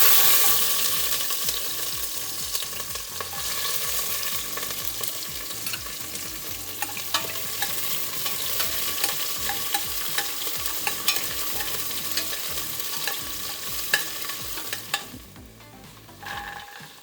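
Onions, bay leaf and two chillies fry in a spoonful or two of ghee with whole spices, under constant close, loud stirring and a busy sizzle that eases off near the end.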